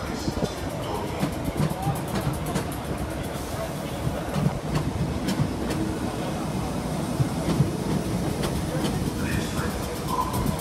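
A train rumbles and clatters steadily in the large echoing space of London Bridge station, with a continuous mechanical roar and occasional clicks and bangs.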